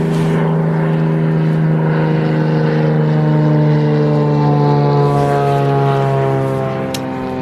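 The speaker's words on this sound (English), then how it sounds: "Go away, aeroplane." A propeller airplane drones loudly overhead, a steady low hum with strong tonal layers that holds throughout and fades slightly near the end.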